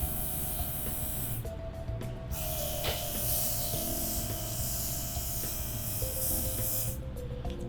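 An airbrush sprays contour makeup with a continuous soft hiss, briefly pausing a couple of times, close and fairly quiet with no talking.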